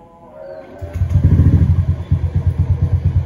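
A Honda Beat fuel-injected motor scooter cranks briefly, then its engine fires and rises into a close, loud, pulsing idle with a quick rev.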